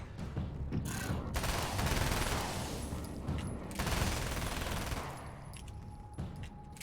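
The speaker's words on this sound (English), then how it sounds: "God, I love that SMG." Sustained SMG bursts from the video game Alan Wake: American Nightmare, loud, punchy and dense, with a short pause midway before another long volley, then a few trailing shots; no talking.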